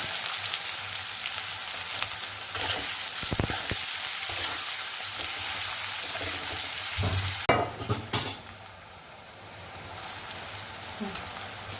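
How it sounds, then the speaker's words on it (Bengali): Chopped onions fry in oil with whole cumin and dried red chillies for a Bengali crab masala, a steady broadband sizzle with scraping stirs, a few louder clatters near the end as the frying quiets. "পেঁয়াজটা খানিকটা ভাজা হয়ে গেছে"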